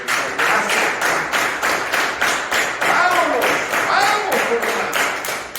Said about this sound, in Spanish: Denle un aplauso a Señor